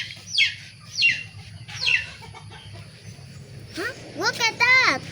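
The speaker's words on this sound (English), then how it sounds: "rooster. Rooster. Here, the baby. A rooster." A rooster is heard outdoors in South Sumatra, Indonesia: a few sharp, repeated calls with clucks, then a longer warbling crow-like call near the end, over a low steady background hum, fairly close and moderately loud.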